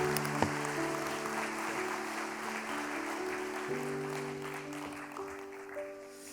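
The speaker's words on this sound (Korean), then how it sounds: "우리 큰 박수로 환영해 주시기 바랍니다." A Korean church congregation at a Sunday service applauds to welcome a pastor, soft and somewhat distant, with steady clapping blended under sustained keyboard chords that shift midway.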